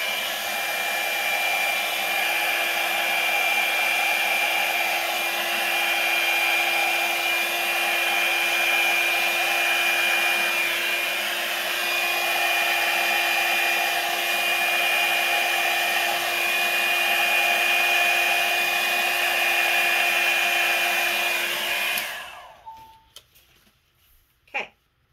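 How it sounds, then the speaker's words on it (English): A small Revlon hot air tool blows steadily on wet paint for a painted background, a loud constant whirring rush lasting about twenty seconds before it switches off and falls silent. "I'm going to get my little Revlon hot air tool and start blowing."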